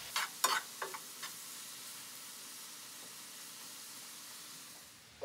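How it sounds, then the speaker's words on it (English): Red cabbage sautéing in a skillet, a quick burst of stirring clatter at the start, then a soft, even sizzle and steam hiss that carries on steadily without talk. "this is sauteing away"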